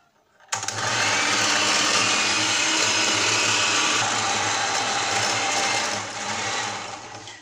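An electric mixer beats Turkish cake batter with orange zest, switching on abruptly and whirring loud and steady at close range, dipping briefly near the end.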